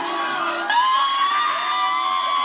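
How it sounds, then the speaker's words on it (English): Boston Bruins hockey fans cheer and scream in a loud, sustained crowd roar, with high whoops rising sharply partway through as a player is greeted at a send-off to the Stanley Cup Final. "And big screams for Bergeron"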